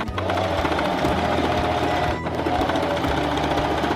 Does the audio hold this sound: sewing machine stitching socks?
yes